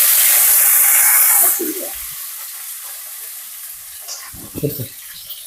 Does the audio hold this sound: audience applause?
no